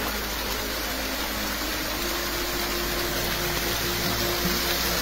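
Borewell water gushes out under high pressure as a dense, unbroken roar of rushing water, loud and close for the whole stretch.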